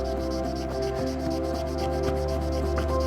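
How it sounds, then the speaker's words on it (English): Steady rhythmic rubbing of sanding pads by hand against hardened resin, quick back-and-forth strokes close up with a low hum underneath. "between sanding pads, I try to do this by hand"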